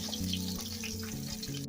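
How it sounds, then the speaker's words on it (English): Plantain pieces shallow-frying in oil for twice-fried tostones, a continuous close crackling sizzle with faint bubbling, steady and alone without talk. "I'm going to go ahead and continue to fry the other pieces"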